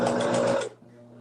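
A sewing machine stitches fabric in a close, loud burst of rapid whirring that lasts under a second and then cuts off, leaving a faint hum.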